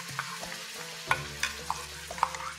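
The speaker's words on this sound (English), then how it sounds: "Once oil in the wok heats up, the next thing that goes in is our Thukpa paste." Thukpa paste hits hot oil in a wok and sizzles steadily, with scattered sharp clinks and scrapes from stirring standing out close by.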